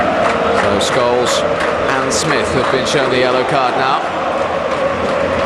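A Romanian football crowd roars steadily at Dinamo Bucharest's stadium during a match against Manchester United, a constant loud wash of massed voices beneath continuous commentary from a match announcer.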